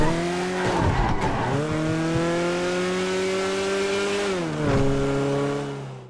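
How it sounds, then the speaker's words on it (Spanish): A Volkswagen Beetle in GTA 5 Online drives with a steady, droning engine note. Its pitch drops and climbs again as the car shifts and accelerates, staying loud and close throughout with no talking. "Atentos a la banda sonora del Beetle."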